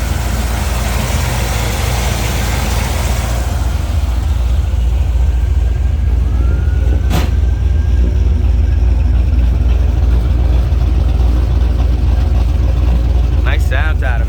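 A 1957 Chevrolet Bel Air with a fuel-injected 383 stroker V8, long-tube Hooker headers and electronic ignition idles with a deep, loud, steady rumble. Faint voices can be heard near the end.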